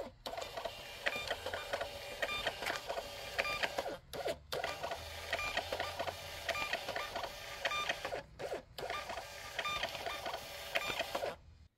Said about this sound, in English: So here's the label printer that I currently use.